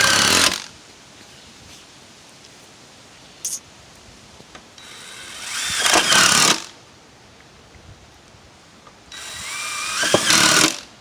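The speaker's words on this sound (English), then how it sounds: "Actually see a hole, I fill it with a screw." A power drill drives screws into a metal roof on a mobile home, with three loud, close bursts of whining, grinding drilling, two of them lasting a couple of seconds, separated by quieter outdoor background and a brief tap, and no talking.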